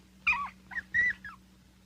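A dog whimpers in short high-pitched whines, three or four brief cries close by, against a faint steady hum, in a 1980 television drama.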